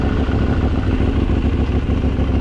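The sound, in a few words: KTM 890 Duke motorcycle quickshifter making a strange noise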